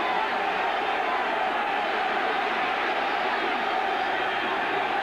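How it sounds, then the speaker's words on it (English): A crowd roars steadily through the whole stretch at a 1998 baseball game between Baltimore and the New York Yankees at Yankee Stadium, a dense, even wash of distant cheering with no breaks. "Crowd's enjoying it."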